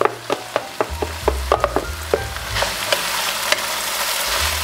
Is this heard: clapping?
no